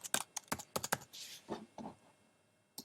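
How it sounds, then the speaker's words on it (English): Typing on a computer keyboard while entering a page title: a quick burst of distinct key clicks, a short pause with a soft swish, then a few scattered keystrokes and one final tap, close and clear with no talking. "From here I can type in a page title"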